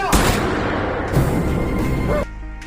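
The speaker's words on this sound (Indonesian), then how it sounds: "keluarga Goto yang membabi buta terus melayangkan tembakan kepada mereka" Gunfire in a scene from the Disney+ horror series Gannibal, a family firing at a car on the road: dense, loud, continuous crackling bursts and booms for most of the clip, dropping off sharply near the end.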